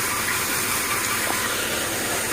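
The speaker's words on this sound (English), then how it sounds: "That is the flywheel rattling" Land Rover engine running with a rattling flywheel, a steady loud mechanical clatter and hiss close by throughout.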